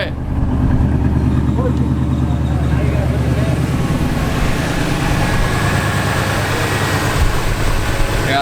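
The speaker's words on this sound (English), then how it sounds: "Hear how it sounds when it idles down, though." A Ford Mustang Fox Body engine idles nearby, a loud, steady low rumble with an even pulsing texture that holds throughout without revving.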